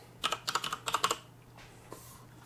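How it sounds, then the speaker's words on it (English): A computer keyboard as someone types the word regedit on a Windows 10 PC: a quick burst of about nine close, crisp key clicks, then a pause and one last soft tap. "all we need to do is type in regedit"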